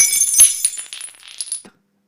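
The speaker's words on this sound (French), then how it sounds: "La jeune femme ramassa une pierre et la jeta contre une des vitres." A stone thrown by hand strikes a glass window pane, giving a bright, close crash followed by scattered tinkling fragments that die away within about two seconds.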